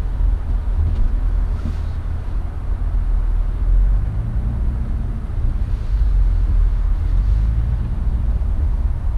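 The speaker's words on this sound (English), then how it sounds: "Put this in here so you guys can see the driving experience of the M3." A BMW M3 drives along with a low, steady engine drone and road rumble, mixed with wind buffeting.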